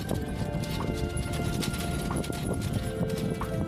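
Rapid hoofbeats clatter at a fast gallop during a bullock cart race, with a whinny-like animal call and crowd noise in the background.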